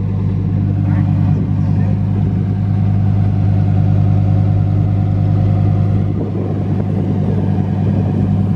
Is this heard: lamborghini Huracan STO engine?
yes